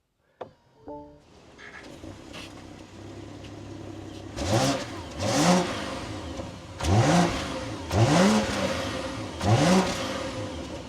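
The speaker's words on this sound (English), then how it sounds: "let's fire this up, take a listen to how the 540 sounds" A 2024 BMW 540i M Sport engine cranks and catches, settles into a steady idle, then is revved sharply five times in a regular rhythm, each rev rising and falling.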